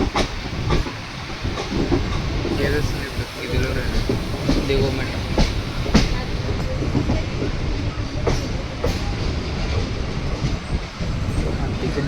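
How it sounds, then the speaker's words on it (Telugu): A train speeds past a railway construction site on the Guntur–Guntakal double line project in the Nallamala forest, giving a steady, loud rolling rumble with hissing wheel and rail noise throughout. "ఫాస్ట్గా పోతుంది ట్రైన్"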